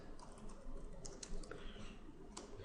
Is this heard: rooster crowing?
no